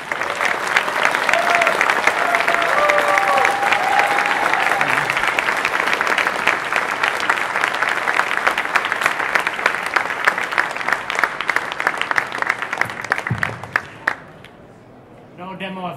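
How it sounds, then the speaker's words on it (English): Large audience at the Jolla mobile phone launch applauding loudly and continuously for about fourteen seconds, a dense roar of clapping with a brief voice in it, then tapering off sharply at the end. "Maybe give one more round of applause for the Jolla guys"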